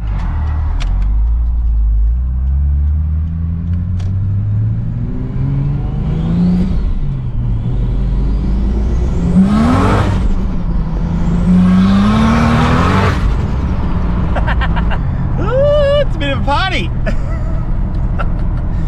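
A Ford Barra turbo engine on a hub dyno during a power run, roaring loud and close as the revs climb in long rising sweeps, then dropping back and revving again near the end.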